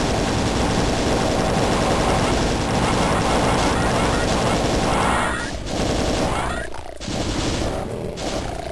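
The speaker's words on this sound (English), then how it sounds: "since I don't feel like just chainsawing them, I'll plasma rifle them." Rapid plasma rifle fire at demons in the video game Doom 2, a dense, continuous stream of loud shots with game explosions and monster noise, easing off briefly near the end.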